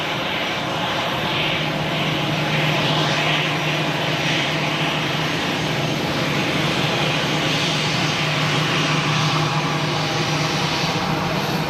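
Aer Lingus Airbus A320 arriving at Zurich Airport, a steady, loud jet engine roar holding through the whole stretch with a low engine drone beneath, close and alone with no talk.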